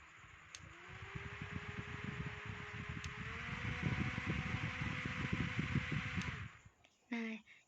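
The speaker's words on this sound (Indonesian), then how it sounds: "pada kipas angin portable ini, semakin kita pencet, maka kecepatan angin akan semakin bertambah" A small portable electric fan runs close by with a steady motor whir that rises in pitch as its speed is stepped up, then cuts off near the end.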